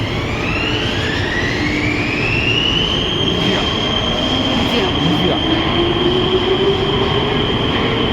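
A Prague metro train at Muzeum station roars loudly and steadily throughout, its motor whine climbing in pitch as it accelerates, with rumbling wheels and rail noise close by.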